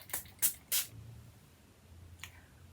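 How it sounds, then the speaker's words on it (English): Three quick close pump-spray bursts from a beauty box product, then a fourth softer spray after a pause, quiet overall with no talk. "What I'll do is I'll spray something"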